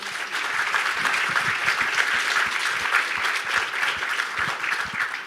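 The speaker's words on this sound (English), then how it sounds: "A warm round of applause." Audience at a luxury consumer panel event gives the panelists sustained applause, a dense, even patter of many hands clapping at moderate loudness with no talk over it.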